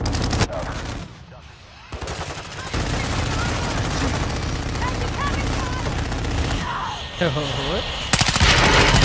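Loud bursts of rapid automatic gunfire from a weapon in a video game shooter, cutting in and out with short pauses, and a voice speaking briefly.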